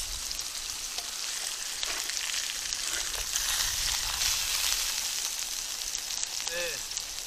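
Pork for burgers sizzles and crackles in a hot pan beside the Nepean River in Penrith, Australia, a continuous loud frying hiss up close with faint background voices.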